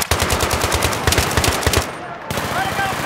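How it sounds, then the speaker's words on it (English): Rapid automatic machine gun fire in a Battlefield 3 campaign mission, a loud, close, fast stream of shots that cuts out briefly before resuming. "Wow, this gun has a lot of freaking recoil, man."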